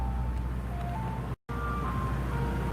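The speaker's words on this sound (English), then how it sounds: "ice cream trucks. We love our ice cream trucks." Ice cream truck playing its steady electronic jingle tune, a thin melodic line over traffic rumble, fairly distant and continuous apart from a brief cut in the middle.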